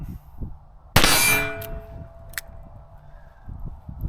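A revolver bullet strikes a steel target, one sharp loud clang that rings on with a sustained metallic tone fading over a couple of seconds, then a faint second ping.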